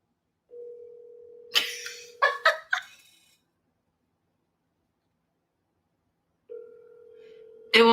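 A phone call placed during a livestream: a steady ringback tone sounds, stops for some brief noises, then starts again near the end; no talk.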